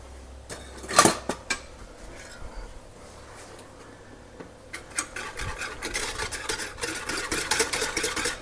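A whisk scrapes and clinks against a bowl while chocolate pie filling powder is beaten into milk, starting with a few louder taps and building into a fast, continuous rhythmic whisking toward the end.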